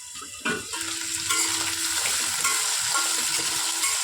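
Dried fish frying in a hot pan for a Bengali shutki bhuna, a steady close sizzle with occasional stirring and scraping, and a faint tone running through the middle.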